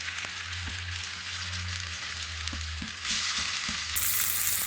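Fish pieces in about four tablespoons of hot oil with curry leaves on a tawa give off a steady, dense sizzle that swells louder near the end, with a few soft clicks of placing or stirring and a low hum underneath.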